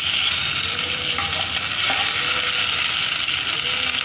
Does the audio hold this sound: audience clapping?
no